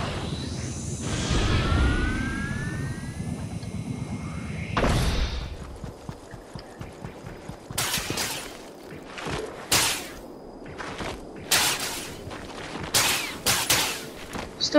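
Scattered gunshots ring out in a Fortnite battle, coming in short sharp bursts and single cracks over a steady background of game noise, after an earlier stretch of rumbling and whooshing.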